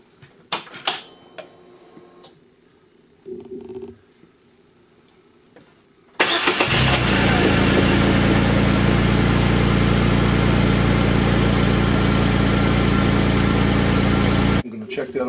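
A 2020 Kawasaki Mule Pro FXT engine cranks and catches, then idles loudly and steadily for about eight seconds before shutting off, after some quieter handling noises at the start.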